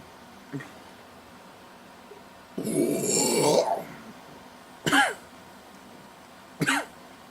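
A short cough, then a longer rough throat-clearing rasp, followed by two more separate sharp coughs with pauses between them.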